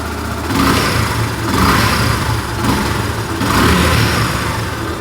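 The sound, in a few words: Yamaha FZS v2 motorcycle engine idling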